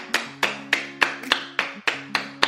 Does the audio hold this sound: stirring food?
no